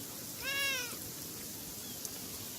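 A cat meows once, a short harmonic cry in the game Beyond Eyes, heard alone over a faint rainy ambient background.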